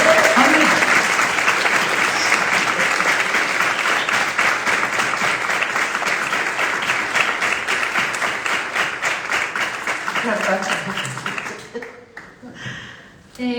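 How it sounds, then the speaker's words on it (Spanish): Loud, sustained audience applause at a film festival honoring actress Blanca Portillo, steady for several seconds, then thinning into scattered claps and fading, with a voice briefly heard near the end. "hay que aplaudir aquí a Blanca Portillo, flamante espiga de honor"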